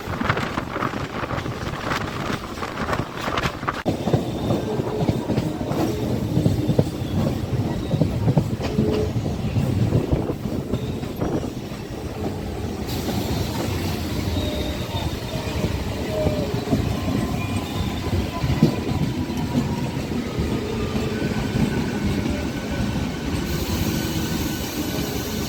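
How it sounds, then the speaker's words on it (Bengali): A Chandanpur local train from Howrah runs alongside with a continuous loud rail rumble and clatter, mixed with heavy wind buffeting, heard from aboard another train near Dankuni. "পাশের ট্রেনটা হচ্ছে হাওড়া থেকে আসছে"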